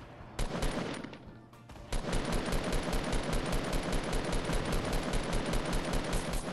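Sustained rapid gunfire in the video game Fortnite, a dense stream of automatic shots after a brief opening burst, loud and continuous with no pauses.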